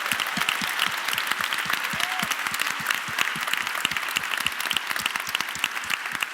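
Audience at a Christmas event giving steady, dense applause, many hands clapping evenly at moderate volume throughout, with no talk over it.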